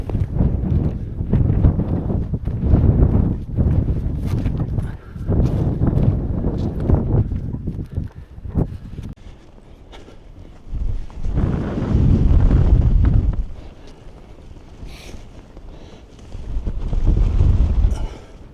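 Strong gusts of wind buffet the microphone on an exposed Lake District fell near Sheffield Pike, roaring in loud bursts that drop to quieter lulls between them, heard close with no voices.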